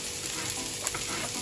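Thin slices of Maultaschen sizzle and fry steadily in a hot pan, a close, continuous crackle with a few brighter spits and no talking.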